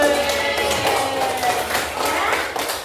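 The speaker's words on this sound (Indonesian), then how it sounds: "Tepuk tangan dulu." Classroom applause from a group of students after the teacher calls for it, a dense patter of many hand claps running steadily through the whole stretch at moderate loudness.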